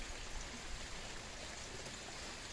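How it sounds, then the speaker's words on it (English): Steady rain pours outdoors during a Sears generator repair, a dense, even hiss of falling water with a faint patter and no pauses or voices. "Gotta love working in the rain, right?"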